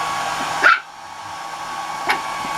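A blow dryer blowing steadily on a litter of puppies before their bath, a loud constant whir throughout with a brief puppy yip partway through.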